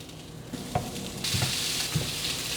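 Zucchini pieces dropped onto a hot grill pan, a hiss that swells into a loud steady sizzle halfway through, with a few soft clunks of food being placed.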